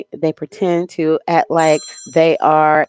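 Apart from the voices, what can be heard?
phone ringing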